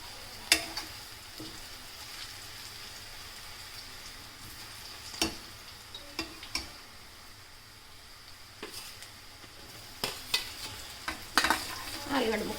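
Half a kilo of potato pieces fry with turmeric in a pan for potato curry, a soft continuous sizzle broken by sharp clicks and scrapes of a spoon stirring now and then, heard up close without talk.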